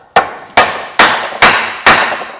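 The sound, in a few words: hammering a Torx bit into a stuck bolt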